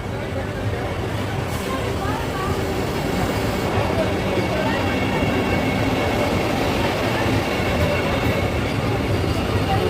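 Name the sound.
Vande Bharat train passing at station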